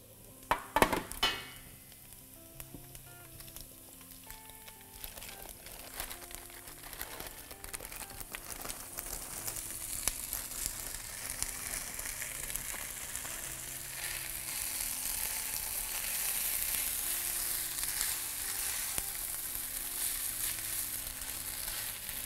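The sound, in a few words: frying spätzle with garlic in a pan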